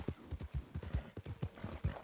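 Horse hooves clip-clop in Red Dead Online, a steady, even rhythm of close, distinct hoofbeats that runs continuously and alone.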